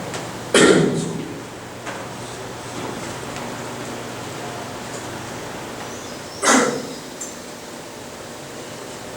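Two sharp, loud coughs from a person, the first early and the second several seconds later, each standing out over a quiet room background.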